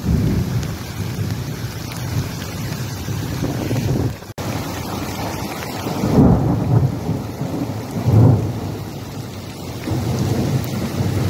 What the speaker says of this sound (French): J'ai rarement vu des orages aussi violents.